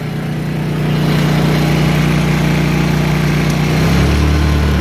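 A Honda EU2000 portable generator runs steadily with its eco throttle off, a loud, continuous engine drone that rises slightly early on, then holds a constant pitch close by, with no talking.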